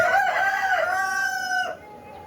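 A rooster among desi laying hens crows once, close and loud, its call stretching for nearly two seconds before fading into quiet farmyard background.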